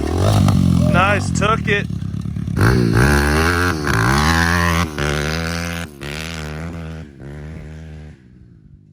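A Pitster Pro FSE 190 dirt bike is ridden nearby, its engine revving up and down in rising and falling surges before fading, with people talking and exclaiming over it.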